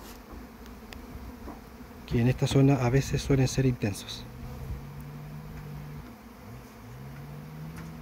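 Honeybees buzz around a hive at an apiary in Purranque, southern Chile, a dense droning hum that swells loudly for a couple of seconds as bees pass close, then settles back under someone speaking Spanish.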